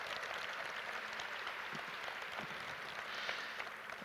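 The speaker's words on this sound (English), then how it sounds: "Let's give them a round of applause." An audience at an aerospace summit showcase gives sustained applause, a steady even patter of many hands clapping at moderate loudness throughout.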